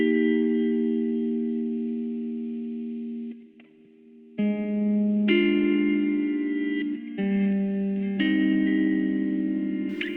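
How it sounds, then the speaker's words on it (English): High electric guitar chords ring out through echo, chorus and distortion effects, sustained shimmering voicings changing every second or two with one brief dip near the middle, played alone without voices. "I wrote some high chords basically to run along with that main guitar part"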